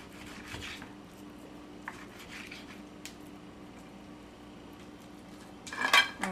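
Legume ingredients get mixed in a cooking pot: faint, scattered scrapes and soft clinks of a utensil against the pot, with a louder clattering burst near the end.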